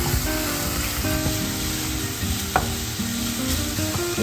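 Green chillies and four cloves of garlic sauté in a pan, a dense continuous sizzle held close and loud for a few seconds, with faint stirring and no voices.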